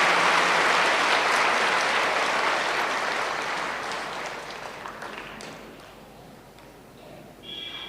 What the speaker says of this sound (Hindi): ज़रूर अपने लिए ताली बजाएंगे